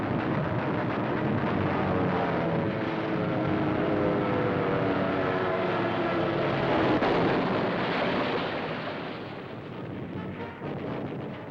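A wartime newsreel soundtrack of attacking planes and massed anti-aircraft guns bursting shells in the sky, a continuous loud roar and rumble of engines and fire with no voices, fading slightly near the end.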